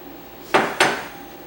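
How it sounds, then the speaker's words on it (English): A dry crumbly crust mixture for lemon squares is pressed and patted into a baking pan, giving two quick close knocks against the pan in a quiet kitchen, with no talk. "I'm just going to put it into the pan, and it's pretty dry, and that's okay, because what I'm going to do is pat it down to make a crust"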